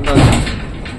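Sliding door being pulled off its rail at a rural village building, a short loud scraping, rattling burst that fades into a lingering rumble.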